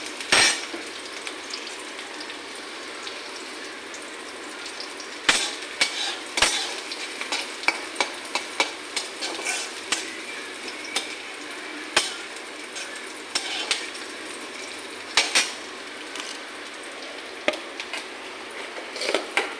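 Onions frying in a pan while being stirred, a steady sizzle with repeated sharp scraping and clacking strokes of a utensil against the pan throughout, close and fairly loud with no talking.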